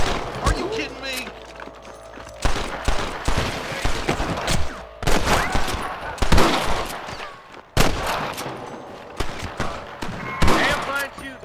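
Volleys of gunfire crackle in Red Dead Redemption, with bursts of rapid shots spread across the scene, loud and close, alongside shouted voices.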